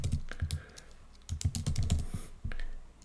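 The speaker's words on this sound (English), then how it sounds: "type in my name" Keys on a computer keyboard clack in quick irregular bursts with short pauses, close and clear, as a name is typed into a web form, with no voices.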